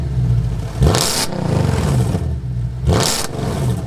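Loud Mercedes C63 AMG Black Series engine revving in two sharp bursts that rise and fall, with a rough crackle between them and no talking.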